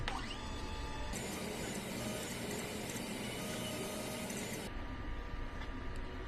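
A printer runs a head clean cycle, its print head unreplaced since July 2023 and the capping in good condition; steady mechanical whirring and pumping hum continues loud and close, changing pitch midway before easing toward the end.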